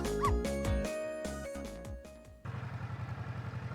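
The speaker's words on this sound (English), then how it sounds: "Yes, you guessed it, I barked." A dog barks in the video game Ghost Trick: a string of short, bright electronic yips over melodic game music, followed by a steady rhythmic pulsing loop.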